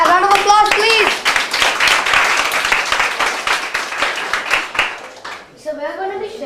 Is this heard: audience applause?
yes